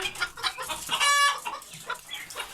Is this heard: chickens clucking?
yes